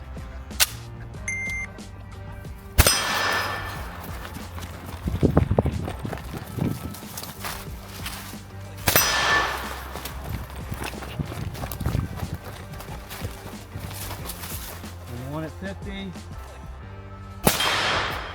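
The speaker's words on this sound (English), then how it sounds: "We'll take 1 shot at the gong here, and then we'll move back and then move back again each time we shoot the steel." Rifle shots ring off a steel gong target on an outdoor range, a few sharp cracks spaced several seconds apart, each with a bright metallic ring, while someone talks between them.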